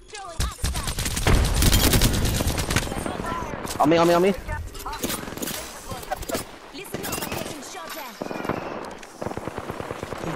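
Rapid bursts of gunfire and shots in the video game Apex Legends, dense volleys near and loud, with a player talking over them.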